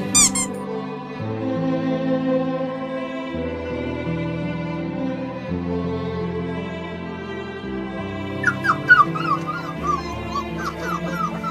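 A small puppy lying on a road gives a long run of high, thin whimpers and squeaks, steady and close, turning into sharper yelping cries near the end.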